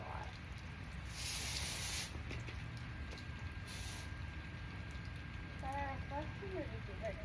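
A water hose sprays a horse down after a ride, a steady broad hiss that cuts in and out in bursts, with soft handling noises and a horse's brief snort near the end.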